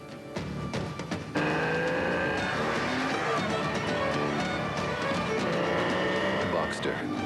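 A Porsche Boxster sports car driving in a TV advert, its engine rising and sweeping in pitch as it accelerates, loud and close, with a voice talking over it.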